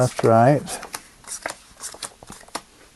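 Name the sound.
playing cards being shuffled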